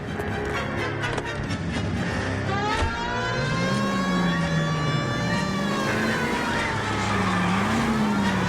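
A car driven in the video game L.A. Noire, its engine droning and rising as it accelerates, loud and continuous, with a wailing police siren sweeping through the mix.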